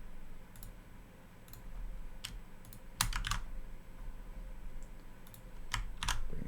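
Computer keyboard tapped in quick cut-and-paste shortcut bursts: sparse, crisp key clicks in small clusters over a steady room hum, close and moderately loud, with no voice.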